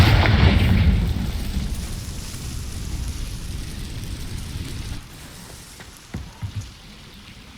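A loud, close spell blast from Hogwarts Legacy booms at the start with a crackling burst, then decays into a long rain-like hiss and scattered debris pops that fade.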